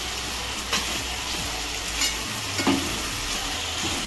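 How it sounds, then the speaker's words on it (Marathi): Chopped onion fries in hot oil in a pan, a steady close sizzle broken by a few scraping stirs of a spoon against the pan, with no talking. "तांबूस रेपर्यंत बघा कांदा पूर्णपणे परतून घ्यायचा आहे"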